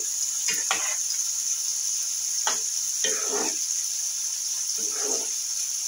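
Cauliflower stirred with ghee in a pan, giving a handful of brief scraping strokes spaced apart over a constant hiss of gentle sizzling, heard close.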